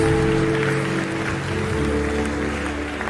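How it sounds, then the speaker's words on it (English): Church congregation applauds during a sermon, a steady, dense wash of clapping that holds at the same level throughout, with no voices over it. "Keep clapping."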